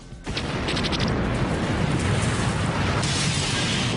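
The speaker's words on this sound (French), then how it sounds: "La force de l'explosion brise toutes les vitres dans un rayon de 300 mètres." A sudden loud truck bomb blast at the US embassy in Nairobi erupts into a sustained, roaring rumble with crackling debris and shattering windows that continues without letting up.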